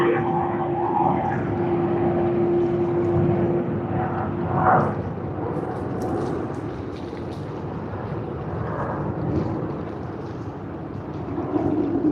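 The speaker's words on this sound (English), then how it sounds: "Another Qantas departure out of Sydney." A Qantas airliner departs Sydney Airport with a steady, broad jet roar that holds for the whole stretch. A sustained engine tone runs through the first few seconds, and the noise stays fairly constant at moderate distance with no voices.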